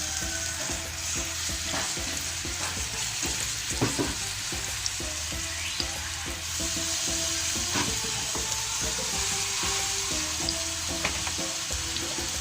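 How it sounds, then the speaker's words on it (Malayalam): Marinated chicken shallow frying in sunflower oil in a pan, a steady close sizzle and crackle that runs throughout with occasional sharper pops and stirring clicks, no voices. "ഇതൊരു ഷാലോ ഫ്രൈ പോലെ മതി, ഡീപ്പ് ഫ്രൈഡ് ഒന്നും ആവശ്യമില്ല."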